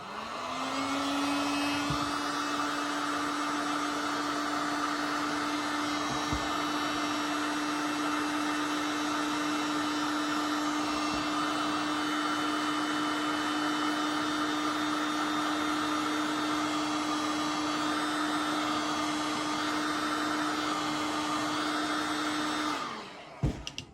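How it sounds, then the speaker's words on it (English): A heat gun warms a VW T4 gear linkage bush, a loud, steady blowing whir that runs unbroken for about twenty seconds, close by, before cutting off with a couple of clicks. "you're just simply heating up the bush slightly"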